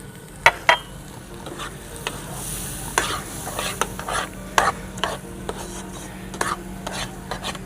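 A spoon stirs food colour mixed in milk through dal halwa in a pan, making repeated scraping strokes and clinks over a soft sizzle, fairly close, with no one speaking.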